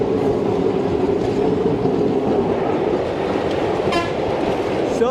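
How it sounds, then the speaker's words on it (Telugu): The Tungabhadra Express pulls into Malakpet station with a loud, continuous rolling rumble of wheels on rails, a brief horn toot near the end. "మన ట్రైన్ అయితే ప్లాట్ఫామ్ నెంబర్ 2లోకి అయితే వచ్చింది"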